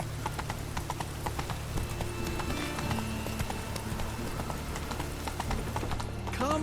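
The horse Roach trots in The Witcher 3, a steady rhythmic clip-clop of hooves on ground repeating throughout, close and clear, with a faint whinny-like sound near the end and no speech.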